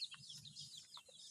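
Hens in rows of coops, one brooding, give short soft clucks and brief calls, faint and close, with no talk.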